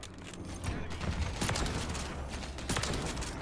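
Rapid gunfire erupts in Call of Duty: Modern Warfare III, likely from the Reclaimer 18 shotgun, with dense, loud bursts running continuously over a rumbling game mix.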